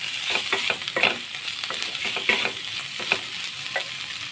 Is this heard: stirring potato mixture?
yes